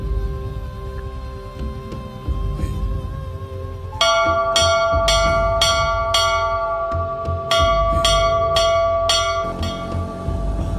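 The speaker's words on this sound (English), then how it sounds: "when one does, bells ring out across the island to let the islanders know they have" Church bells ring out across Mangareva island, a steady pealing that grows louder and fuller midway, with repeated bright strokes over a continuous ringing hum.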